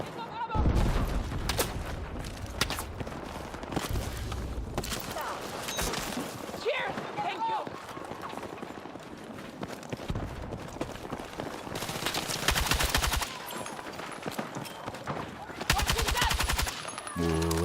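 Rapid bursts of automatic gunfire in the video game Battlefield 6, loud sustained volleys repeating through the stretch with brief pauses between them, and a player's voice talking now and then underneath.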